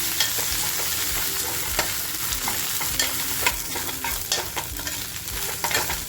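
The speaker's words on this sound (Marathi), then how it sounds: "त्याचबरोबर आपला जो मसाला आता करून घेतला आहे तो मसाला टाकून अगदी छान फ्राय करून घ्यायचं आहे" Masala for black pomfret frying in a pan, a continuous loud sizzle broken by frequent scraping strokes as it is stirred, close and steady with no talk.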